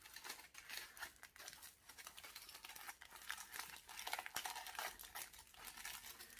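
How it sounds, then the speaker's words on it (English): Sellotape is peeled carefully off a foil-wrapped plant, making quiet, close crinkling and crackling with short tearing bursts in an irregular run of small bursts and no voices. "I just carefully take this sellotape off."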